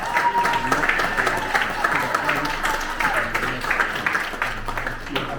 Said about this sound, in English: I'd like a special round of applause for the team here.